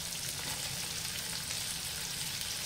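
Sausage, bacon, bell pepper, onion and garlic frying in a pan, a steady dense sizzle with constant crackle and no talking.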